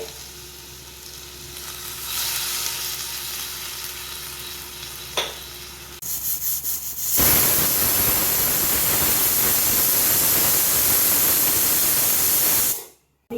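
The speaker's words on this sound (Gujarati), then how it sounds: "એક વિસલ થઈ ગઈ છે." A pressure cooker of valor papdi and dhokli vegetable curry builds up, then lets out one loud, sustained steam whistle and hiss lasting about six seconds before it cuts off abruptly.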